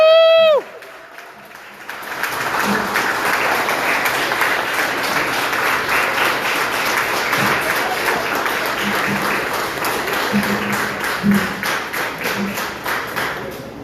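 Audience at a talk on the psychology of Black business bursts into applause for Dr. Boyce Watkins after a brief shouted cheer, then sustained loud clapping with some whoops continues steadily for about twelve seconds.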